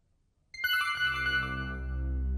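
A phone ringtone starts abruptly after a moment of near-silence, a bright melodic electronic tone that rings on steadily and fairly loud, with no voices.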